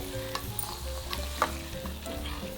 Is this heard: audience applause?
no